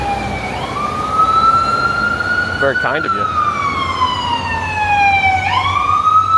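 An ambulance siren wails with rising and falling pitch on a New York City street, loud and steady across the whole stretch, with a brief spoken remark and traffic rumble underneath.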